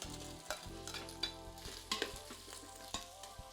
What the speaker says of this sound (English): now we're gonna go in with 1 pound of smoked sausage.